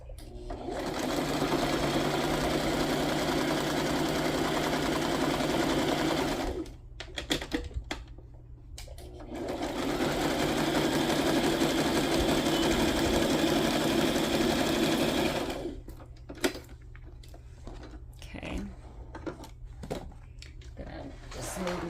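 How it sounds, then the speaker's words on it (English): A sewing machine runs zigzag stitching in two long rapid bursts, whirring and clattering, separated by pauses with light handling noises and brief quiet movement. "I just alternate between a wonky stitch, a zigzag stitch"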